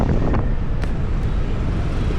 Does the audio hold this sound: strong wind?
yes